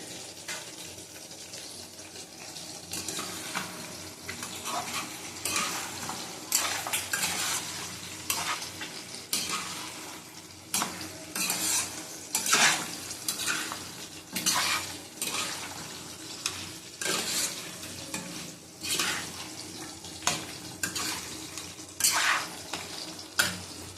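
Mutton with oil and spices sizzles steadily in a pan while a spoon scrapes and stirs in irregular bursts of clatter, close and fairly loud, with no talking.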